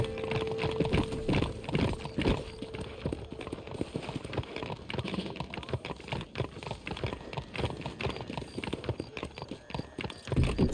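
A horse gallops in the Red Dead Redemption video game, rapid rhythmic hoofbeats pounding steadily at moderate volume, with a faint neigh.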